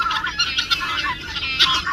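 Chickens cluck and squawk in a busy, continuous chorus, fairly close, with no talking.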